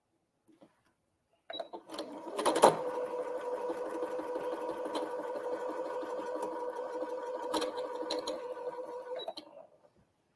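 A sewing machine stitches a quilt block in a steady, fairly loud mechanical run of about eight seconds, with a sharp clack near the start and another near the end, and no talking over it.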